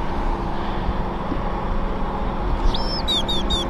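A few bright chirps ring out near the end over a steady wash of ocean surf and foggy coastal ambience.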